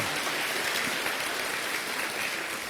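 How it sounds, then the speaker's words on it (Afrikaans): An audience claps steadily and continuously at a family celebration, a dense, even wash of hand clapping from many people with no gaps. "Kom ons gee vir haar lekker hande klap toe."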